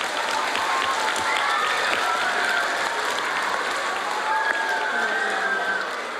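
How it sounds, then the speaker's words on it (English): A group applauds during a live-streamed wildlife education session, steady dense clapping that stays level throughout, with faint voices mixed underneath. "Give yourselves a round of applause."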